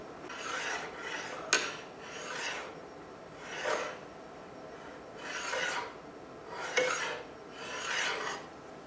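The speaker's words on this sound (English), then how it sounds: "Here I added a handle to the aluminum, so I can push it back and forth through the magnetic field" An aluminum bar with a handle is pushed back and forth through a magnetic field, giving rhythmic rasping scrapes roughly every second, each a soft rising and falling swish, with a few sharper clicks.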